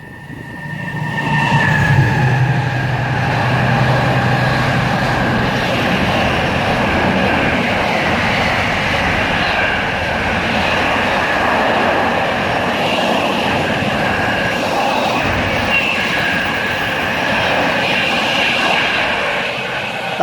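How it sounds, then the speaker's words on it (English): A loud Class 70 diesel locomotive roars past close by through a station platform at Tamworth, its heavy engine drone and rumbling wheels sustained throughout with a constant rattling wash. "approaching now is going to be a Class 70 coming through platform 2"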